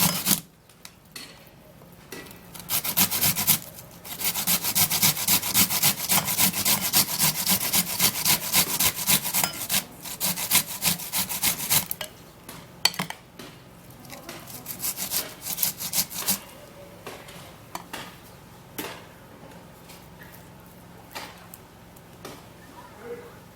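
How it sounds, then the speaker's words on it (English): A small piece of onion rubbed against a grater for a homemade lip scrub, producing rapid rhythmic rasping strokes in long close bursts, then sparser scrapes and taps as the grating slows. "I'm gonna be grating the onion"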